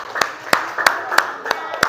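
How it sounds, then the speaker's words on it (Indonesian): A small group in a classroom claps for a presenting team, with several sharp, evenly spaced claps close by and a short, thin burst of applause. "Tepuk tangan untuk kelompok 1"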